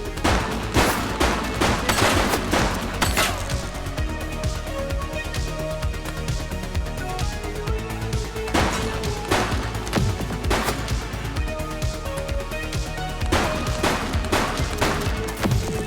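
Gunfire in The Precinct police game: sharp bursts of close, loud shots in clusters with pauses between, over a steady musical score and no talk.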